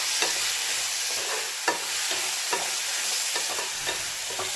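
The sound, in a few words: bitter gourd cooking in a pan with salt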